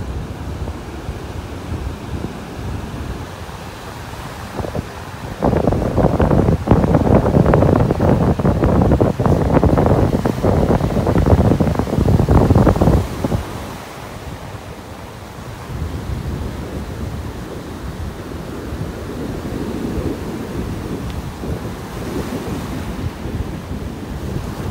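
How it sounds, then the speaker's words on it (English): Wind gusts across a beach in North Naples, Florida, roaring into the microphone over the wash of surf, loudest in a long middle stretch and then easing to steadier breaking waves. "Boy, it is breezy out."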